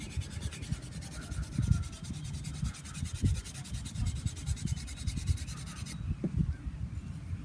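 A cleaning block is rubbed firmly along the blade of a bonsai cutter, giving a faint, close scraping that repeats in short back-and-forth strokes.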